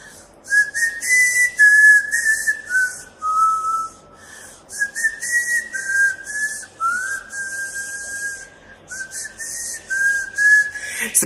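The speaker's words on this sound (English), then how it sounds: "I can whistle with my tongue." A person whistles a wavering, sliding melody in long phrases, close and clear, with an airy hiss over each note and short breaks between.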